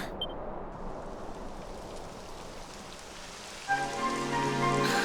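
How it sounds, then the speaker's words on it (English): Rain patters steadily across a surface in the video game Dragon Quest XI S, a soft continuous hiss, joined near the end by a faint tonal hum. "It would have to go and start raining, wouldn't it?"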